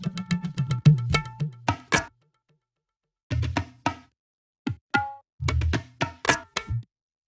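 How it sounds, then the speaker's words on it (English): Tabla strokes in a music production just before the chorus, layered with other percussion: a busy run of sharp hand-drum hits with resonant low tones, a pause, then further clustered bursts of strikes. "So coming into the tabla bus,"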